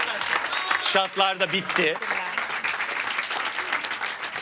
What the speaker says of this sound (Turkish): Kendinizi bir alkışlayın bence